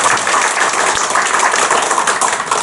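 Dense, continuous applause from a church congregation fills the space, steady and fairly loud throughout with no voices over it.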